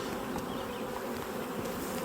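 Honey bees buzz steadily around a hive after a swarm, a dense continuous drone of many insects close by with no voices.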